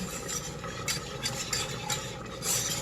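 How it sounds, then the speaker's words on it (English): Creamy cabbage and sausage soup being whisked in a pot: soft continuous scraping and stirring with light clinks of the whisk against metal, fairly quiet and steady throughout. "Just keep stirring and adding it slowly."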